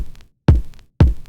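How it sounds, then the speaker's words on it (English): Resonant kick drum sample in a beat, three heavy booming hits about half a second apart, each with a deep ringing low tail and faint upper click, loud and isolated with no voices. "This kick sounds like this."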